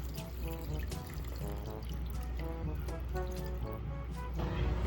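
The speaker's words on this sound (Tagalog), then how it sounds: "Nilalagyan na po ni tatay ng tubig." Water is poured into a pot for boiling freshly harvested corn, salt already added, a steady gurgling pour with rising liquid tones heard close up, alone and continuous for about five seconds.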